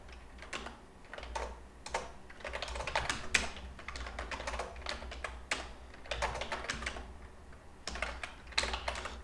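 Steady typing on a computer keyboard, with quick clustered keystrokes and short pauses, close and fairly quiet, with no voices.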